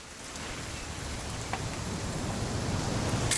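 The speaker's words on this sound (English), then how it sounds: "It's gonna rain the whole weekend, isn't it?" Steady rain falling in the video game What Remains of Edith Finch, an even hiss of dense drops that swells slightly louder over a few seconds, with no voices.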